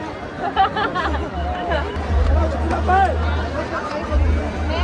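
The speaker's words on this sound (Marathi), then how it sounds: "तुम्ही गर्दी बघू शकता" A big crowd of pilgrims walks in the Palkhi procession at Hadapsar, and their chatter and babble fill the air close by. Voices overlap throughout, with low rumbling thumps underneath.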